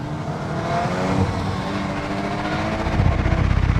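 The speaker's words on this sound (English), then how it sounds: "the car revving a bit more" Volkswagen Golf R engine in Nürburgring mode revving loudly and steadily nearby, a continuous aggressive roar that swells toward the end with no talk over it.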